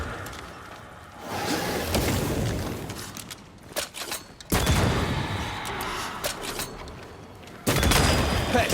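Gunfire from a corpse enemy in Banishers: Ghosts of New Eden: loud bursts of rapid shots and booming impacts arrive in several blasts separated by quieter gaps, with mechanical clatter and whooshes between them.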